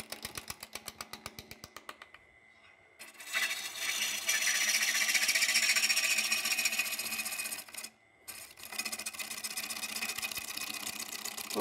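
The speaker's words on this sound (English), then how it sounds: "Changed my life because you get a super smooth cut using the chisel" A wood lathe spins a faceplate-mounted workpiece while a chisel cuts it, with rapid rhythmic ticking at the start, then a sustained loud shearing hiss from the cut that briefly drops out and resumes.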